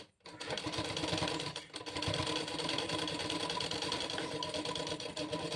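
A sewing machine runs steadily while stitching a blouse, a continuous close mechanical whirr of fast needle strokes that stops briefly for a moment and then carries on to the end.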